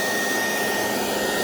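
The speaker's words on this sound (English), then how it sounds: "Fire's going through the middle." A waste oil fire burns with a steady, loud, broadband roaring whoosh like a blowtorch or forced-air burner, continuous and close, with no voices.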